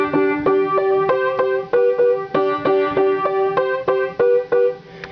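A piano plays a simple, evenly repeated pattern of notes at a steady pace, clear and close with no voices.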